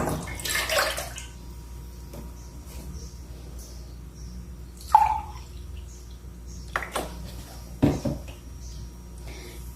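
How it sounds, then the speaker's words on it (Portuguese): A water-and-milk mixture for homemade bread is poured into a pan. A brief close splashing pour comes near the start, followed by scattered light clinks and drips. No one speaks. "Agora vamos transferir para a panela."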